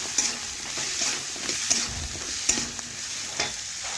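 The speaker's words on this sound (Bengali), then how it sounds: "এখন সমস্ত কিছু একসাথে ভালোভাবে মিশিয়ে একটু কষিয়ে নেব" Spices with red chili powder and a ginger, cumin, garlic and green chili paste fry in a pan, a close sizzle broken by regular scraping strokes of a spoon about every second, with no talking.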